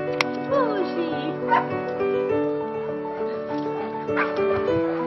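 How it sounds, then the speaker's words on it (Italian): A dog barks and whimpers in short yips and whines, mid-distance and fairly loud, over a steady musical backdrop with a sustained tonal bed throughout. "Il cane non tace."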